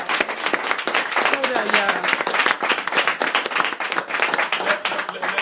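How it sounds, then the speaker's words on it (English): A church congregation claps for a speaker in a dense, continuous burst of many hands, loud and close, with a few voices calling out over the applause. "Clap for him"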